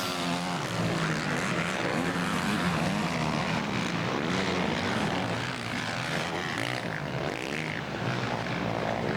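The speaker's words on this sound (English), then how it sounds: "There he goes, ripping through the berms." Motocross bike ripping through sand berms on the Southwick course, its engine a continuous loud, buzzing drone that rises and falls slightly without a break.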